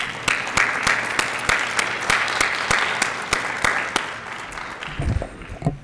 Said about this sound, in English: Another, I think, round of applause.